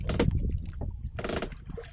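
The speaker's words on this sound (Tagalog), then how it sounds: "may alon pa rin mga kabay, oh" Small waves slosh and lap near a calm shoreline, heard close up from a small boat while wind-driven swells stay farther out; the watery splashing comes in uneven bursts with no talk over it.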